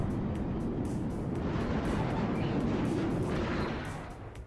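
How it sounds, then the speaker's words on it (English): Continuous heavy rumbling of big distant explosions and artillery-like booms in the game WARNO, a dense roaring wall of sound that fades slightly at the end. "those are really big explosions"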